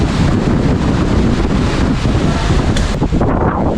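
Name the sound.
strong wind blowing outdoors after a typhoon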